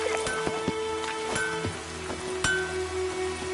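Rain falling in the video game The Witcher 3: Wild Hunt, a steady soft patter on surfaces with scattered sharper drops and faint clinks, continuous and close, with no talking.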